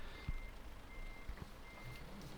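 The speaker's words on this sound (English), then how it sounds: "Stop the reverse beep." Reversing beeps from a truck in Euro Truck Simulator 2, a steady repeating electronic tone sounding over low engine rumble, with a couple of soft thumps.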